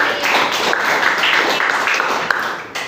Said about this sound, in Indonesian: Beri tepuk tangan yang terakhir dong untuk Mbak Im